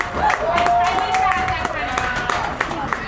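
A crowd at a pride event claps for an elected official, a short spell of scattered, close applause under cheering voices and a loud background babble.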